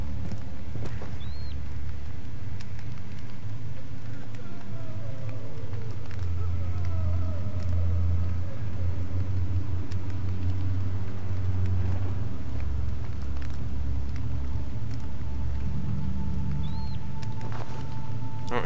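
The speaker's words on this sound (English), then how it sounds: "Hear the ominous monster music." Ominous monster music from the horror game Amnesia: The Dark Descent: a dark, low, continuous drone with faint wavering tones and eerie swells, holding steady throughout without talk.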